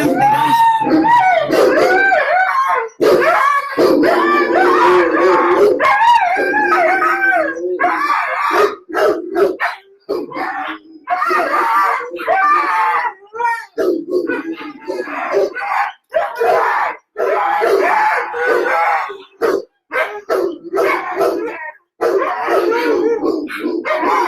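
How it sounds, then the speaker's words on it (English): A dog barks and howls repeatedly outdoors, loud and close, in a rising and falling run of yelps and wails that nearly fills the stretch, with a voice speaking at moments in between. "there's a dog walking by"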